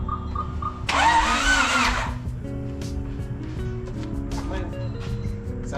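A car engine with a swapped Honda B18B cranks briefly and catches, then settles into a steady idle with mechanical whine, close by, with faint voices nearby.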